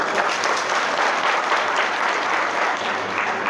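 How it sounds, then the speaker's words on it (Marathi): An audience at a spiritual discourse gives steady, even applause that holds at a fairly loud level for the whole stretch. "टाळ्या जरा कमी आवाजात झाल्या."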